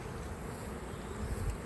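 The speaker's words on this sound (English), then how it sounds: "Bees hanging out." Honeybees buzzing around the outside of a freshly split hive, a faint, continuous low drone with a slight swell toward the end, outdoors and without voices.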